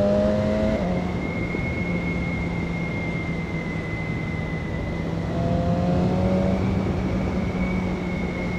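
A BMW S1000XR motorcycle accelerates hard on an Andorra mountain road, its engine droning steadily and close under heavy wind rush, pitch shifting slightly through gear changes.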